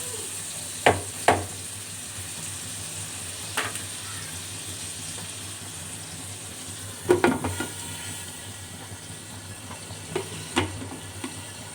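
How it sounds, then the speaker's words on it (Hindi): Potatoes with fenugreek and garlic sizzle in a pan as a home cook makes aloo methi salan, a soft constant frying hiss broken by a few sharp scraping stirs of a spoon. "आलू को हम इसमें 10 मिनट तक सही से पकाएंगे।"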